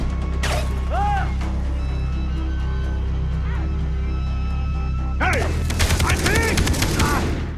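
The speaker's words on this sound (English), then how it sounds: "Shot you with an AK-47." An AK-47 fires in the video game Far Cry 3, starting with a sharp shot, then a rapid, loud burst of automatic gunfire near the end, over a constant engine-like drone while someone talks.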